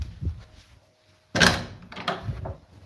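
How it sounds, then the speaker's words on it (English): A front door opens at home with a sudden loud thud and rattle of the latch and frame, then softer knocks and shuffles close by. "Let me open the door."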